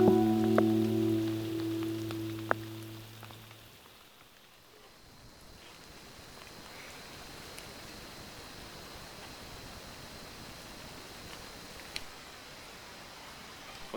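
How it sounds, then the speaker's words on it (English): Heavy rain pelting steadily on a tent fly beside a lake in the northern backcountry, a dense even patter that runs on for many seconds, close and continuous after a brief tonal sound at the start. "we slowly drifted off to the sounds of heavy rain pelting off the fly"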